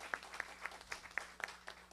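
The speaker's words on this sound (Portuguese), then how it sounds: "Uma salva de palmas aí para a nossa mística e a toda a produção do assentamento Oswaldo de Oliveira." Audience at a food security commission event on a rural settlement give scattered, sparse clapping, faint and distant, a handful of separate claps over about two seconds.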